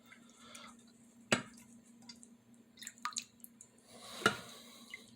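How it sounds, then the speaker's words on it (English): Water drips plinking into a tray as a can is bounced into it at a regular pace for a wave interference demonstration, with two sharp louder drops standing out among quieter ticks over a steady low hum. "I'm going to bounce it into the water at a regular pace."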